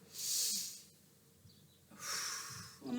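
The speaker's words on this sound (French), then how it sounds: "Soufflez. Encore." Breathy exhales during a Pilates exercise, two soft, airy hissing breaths about a second and a half apart, close and fairly quiet.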